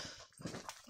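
A dog gives a brief, soft whimper on a walk up a steep wooded hill, close and quiet, lasting under a second.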